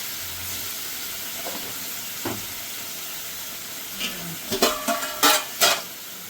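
Spice masala for an okra and potato dish fries in a pan, a soft steady sizzle with a few sharp spoon scrapes and taps clustering toward the end, close and without talk.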